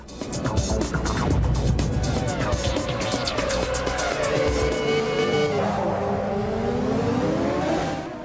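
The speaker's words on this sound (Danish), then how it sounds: "Det nyeste skud på stammen af racerspil er 2001-udgaven af Electronic Arts populære Formel 1-spil" Formula One cars racing in the PC version of EA's F1 2001 video game: loud, high-pitched engine whines rise and fall as cars accelerate and shift, with tire squeal and skidding under continuous engine roar.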